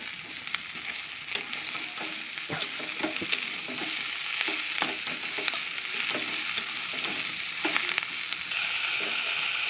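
Sliced ridge gourd goes into hot oil with browned onion and sizzles steadily while being stirred, with frequent scraping clicks of the spatula close by and no talking.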